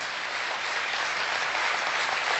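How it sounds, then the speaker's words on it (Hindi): Steady, dense audience applause at a Hindi poetry recital, a full crowd clapping continuously at even volume for a few seconds with no voices over it. "आपकी तालियां शहादत को शायद बड़ा करें।"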